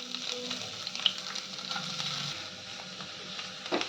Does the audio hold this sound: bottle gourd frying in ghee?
yes